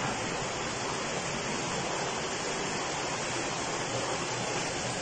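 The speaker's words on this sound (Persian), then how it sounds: "این هم آب قناته" Water flowing through an underground qanat about two metres beneath the desert at Jandaq, heard as a steady, dense rushing wash that fills the space evenly without pause.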